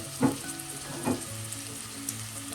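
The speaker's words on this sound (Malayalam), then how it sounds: "ചെറുതായി വാടുമ്പോൾ നമുക്ക് അരിഞ്ഞ് വെച്ചിരിക്കുന്ന ക്യാരറ്റ് ചേർക്കാം." Chopped carrot tumbles into frying cabbage for a Kerala thoran, giving two soft thuds and stirring scrapes over a steady low sizzle, close and fairly quiet.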